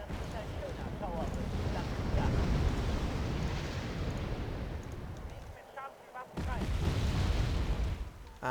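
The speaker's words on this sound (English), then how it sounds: "dropping lots of bombs on them" MiG jets drop bombs in the video game Wargame: AirLand Battle, a continuous rumbling wash of explosions and gusty noise with a short lull near the end, heard under a voice.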